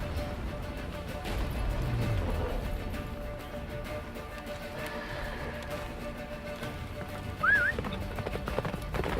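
Roach, the horse in the video game The Witcher, gallops with steady clip-clopping hoofbeats heard up close under a constant wash of ambient noise, with a brief rising tonal cry near the end.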